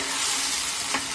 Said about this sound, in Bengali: আবার একটু ভালো করে কষিয়ে নিই।